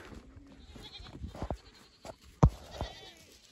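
A few short goat bleats, one louder and closer than the others, against a quiet outdoor background.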